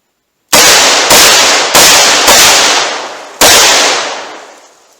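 Revolver shots fired at a target at a shooting range, five sharp loud reports spaced irregularly about half a second to a second apart, each with a decaying echo, close and alone with no talk.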